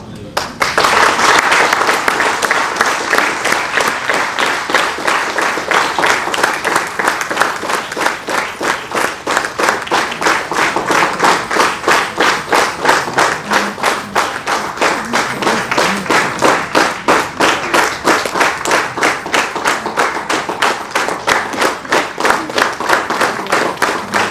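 Audience at a Tyagaraja Ramayanam discourse applauds at length, dense clapping that settles into a steady rhythmic beat of synchronized claps, loud and close, continuing unbroken.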